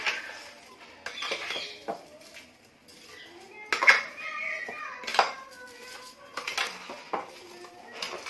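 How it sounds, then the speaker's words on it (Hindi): A spoon mixes fruit chaat with sugar in a bowl, producing irregular clinks and scrapes against the dish, some louder knocks standing out from quieter stirring. "आप इसको अच्छे से मिक्स कर लें।"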